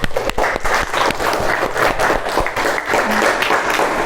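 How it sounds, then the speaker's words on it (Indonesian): An audience applauds in a classroom-style session, a dense, continuous burst of many hands clapping at close range, loud and steady throughout with no talk over it. "Beri tepuk tangan untuk Mbak Sophia."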